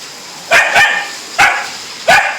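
A pit bull barks four times, loud and close, with two quick barks followed by two more spaced out.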